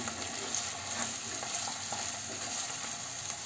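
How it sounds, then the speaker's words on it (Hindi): Vegetables sautéing with garlic and ginger for restaurant-style fried rice, a soft continuous sizzle with faint occasional stirring taps, quiet and close. "मैंने सब्जियाँ डाल दी इसमें खूब अच्छे से इसको भून लूँगी"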